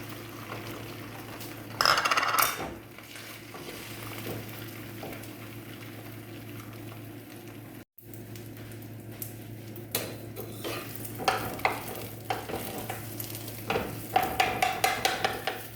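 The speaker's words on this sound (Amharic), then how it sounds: "እዚህ ጋር እንቁላላችንን እንደዚህ ከመታን በኋላ የጋለ መጥበሻችን ላይ አድርገናል ማለት ነው።" Beaten eggs fry in a hot pan with a soft, continuous sizzle. Scraping utensil strokes and clinks of cookware come and go, louder toward the end.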